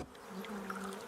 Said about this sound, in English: So now the bees are massive and absolutely furious